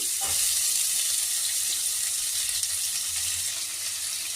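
Onions sizzle steadily in a hot pan with boiled potatoes, fenugreek leaves and tomato, a continuous close frying hiss with no voices.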